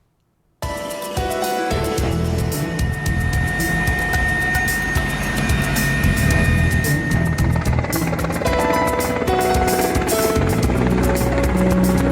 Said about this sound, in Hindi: आसमान से फूल बरसाते ये वायुसेना के हेलीकॉप्टर देश के कोरोना योद्धाओं को सलामी दे रहे हैं।